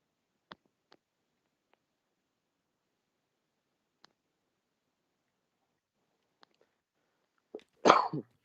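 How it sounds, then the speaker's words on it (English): A single loud cough near the end, preceded by a few faint clicks and taps in otherwise near silence. "It's good to cough."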